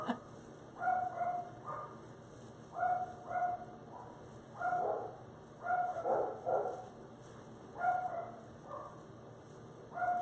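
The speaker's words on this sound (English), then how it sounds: "They've been barking all day." Several dogs barking in short, repeated bursts of yips and bow-wows close by, with steady pauses between volleys and no talking.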